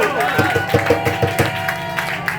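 A congregation claps along at a church gathering, rhythmic hand claps about every fifth of a second under a preacher's voice and crowd murmur, steady and moderately loud.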